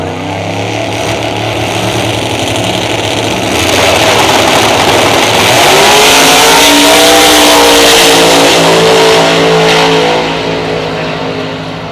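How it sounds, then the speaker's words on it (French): A supercharged big-block drag car with zoomie exhausts roars at extreme volume, its engine note swelling and climbing in pitch as it revs, then holding a sustained, deafening blare before easing slightly, close by at a drag racing event. "avec un gros big block et un prochargeur avec des zoomies au niveau des échappements. Je sais même pas si on m'entend vraiment. Et c'est extrêmement bruyant."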